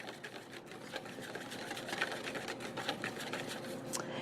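A whisk beats a mac and cheese egg mixture in a bowl, a quiet, rapid, steady scraping and clicking rhythm heard close and alone.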